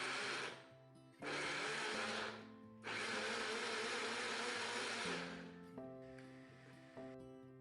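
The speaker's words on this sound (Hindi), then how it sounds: "पीस कर इसकी प्योरी बना लें।" A kitchen mixer grinder whirs loudly in several bursts, stopping and restarting, as it grinds ingredients into a puree for a no-oven bread pizza.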